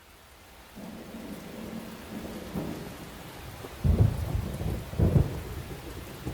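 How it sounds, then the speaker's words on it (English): Rain falls steadily in a scene from the video game AI: The Somnium Files, with two deep, loud rolls of thunder rumbling up close toward the end. "And it stopped raining."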